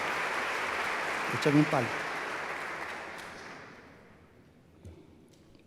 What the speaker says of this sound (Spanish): muchas gracias por los aplausos